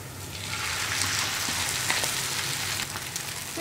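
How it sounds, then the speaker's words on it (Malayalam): Beaten unsalted egg hits a hot pan and sizzles, a steady crackling hiss that holds evenly for a few seconds with no talking. "ഉപ്പ് ചേർക്കാതെ ബീറ്റ് ചെയ്ത് വെച്ചിരിക്കുന്ന മുട്ടയാണ് ഞാനിപ്പോൾ ഇതിലേക്ക് ചേർത്ത് കൊടുക്കുന്നത്"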